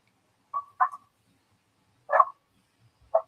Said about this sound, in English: Sorry for the dog in my background.